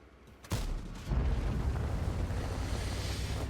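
A tank gun fires in World of Tanks, played with the Object 274a: a sharp, heavy blast, then a second thump and a sustained low rumble that fades only slowly.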